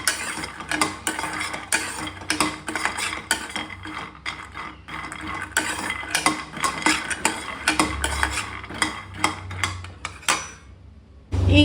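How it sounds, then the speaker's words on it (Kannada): Almonds are dry roasted in a pan over a low flame, stirred constantly so the nuts rattle and scrape against the metal in close, dense clatters with a faint sizzle underneath and no talking. "ಬಾದಾಮಿನೆಲ್ಲ ಡ್ರೈ ರೋಸ್ಟ್ ಮಾಡ್ಕೊಳ್ಳಿ"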